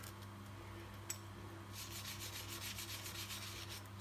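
A brass object found while mudlarking is scrubbed to remove barnacles and gunk, making a continuous, soft abrasive rubbing that grows busier partway through, close and fairly quiet over a steady low hum, with no voices.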